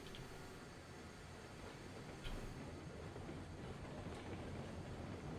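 Steam locomotive rolling along the track at a logging camp in the railroad game Railroads Online, a steady, continuous rumble with clatter from the wheels, close and unbroken, with no talk over it.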